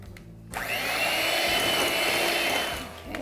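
A kitchen blender whirs loudly as it purees crushed pineapple, starting abruptly after a short pause and holding a steady, high motor whine before easing off at the end.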